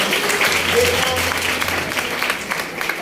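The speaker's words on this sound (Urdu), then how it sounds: "اسی اپنے بھنوں واسطے خواتین واسطے زوردار تالی بجاواں گے" A church congregation at an Easter service in Abdal claps loudly for the women, a sustained wash of many hands with a faint voice and low hum underneath.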